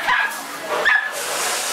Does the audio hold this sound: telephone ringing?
no